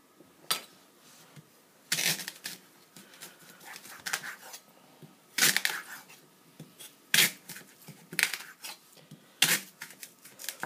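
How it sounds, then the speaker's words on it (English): A knife chopping tough rhubarb stalks on a cutting board, sharp close thuds landing in uneven bursts with quieter scraping between them. "So now what I've got to do is dice it."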